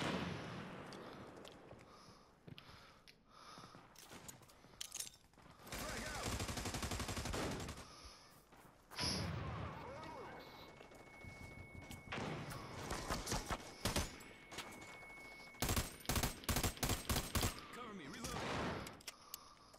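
Bursts of automatic gunfire in the online military shooter America's Army: Proving Grounds, loud rapid volleys broken by quieter gaps and single shots, with some talk heard between.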